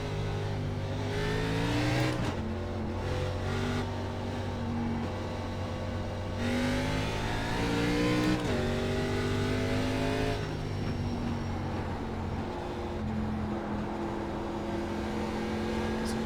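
An ARCA stock race car engine in iRacing revs steadily and loudly with no talk over it, its harmonic drone climbing and dropping through several distinct throttle swells and gear changes.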